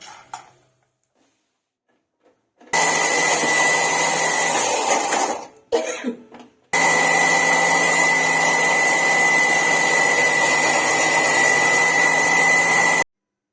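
An electric grinder powders dry-roasted ingredients that were fried in ghee, whirring loudly and steadily in two long bursts separated by a short pause with a brief clatter.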